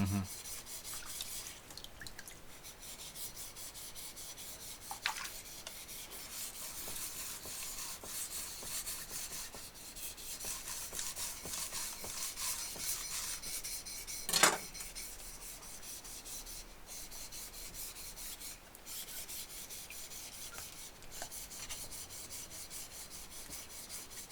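A Yanagiba knife being sharpened on a whetstone, with continuous gritty scraping and rubbing strokes at low level, occasional faint clicks and a louder knock partway through.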